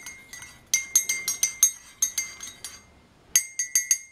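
A spoon clinks repeatedly against a glass cup while stirring coffee, bright ringing taps in quick rhythmic bursts with a short pause between, close and clear.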